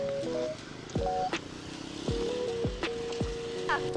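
A motorcycle passes nearby, its engine note swooping and revving in several quick pitch sweeps over a low background hum.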